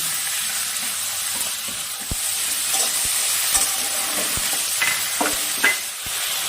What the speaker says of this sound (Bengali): এবার তেলের মধ্যে আলু কুচি দিয়ে দিলাম এবার আমি পেঁয়াজ কুচি দিয়ে দিলাম